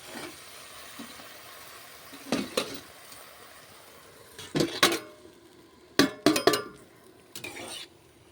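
A lid goes onto a pot of eggplant and potato curry with a little water, giving several sharp metallic clanks and rattles in bursts over a quiet kitchen background.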